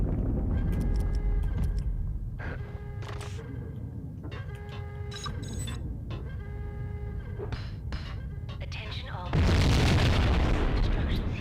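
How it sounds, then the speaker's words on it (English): A grenade detonates in the video game Max Payne, a deep booming blast near the end that swells loud over earlier gunfire pops and game sounds, with no talk over the blast. "Are we able to just chuck a grenade in here and hope for the best?"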